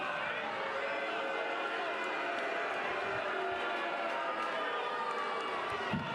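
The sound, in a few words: baseball stadium crowd reacting to throws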